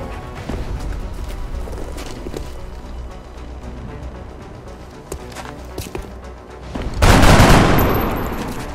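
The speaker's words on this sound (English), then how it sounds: "Open fire!" Video game gunfire in XCOM: Enemy Within, a steady stream of shots and impacts across the clip that swells into a loud, dense burst near the end.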